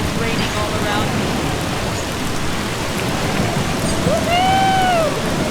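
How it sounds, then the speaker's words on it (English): Steady rain in the video game Eastshade pours all around, a dense hiss with low rumbling, and a rising whistling tone sweeps in near the end. "It's like it's raining all around me."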